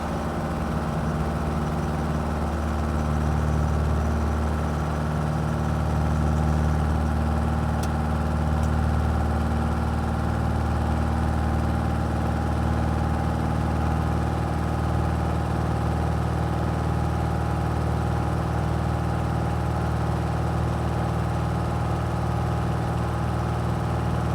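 A Cessna 172 light airplane engine drones steadily and loudly during the takeoff roll, a continuous low throbbing hum with no talk over it.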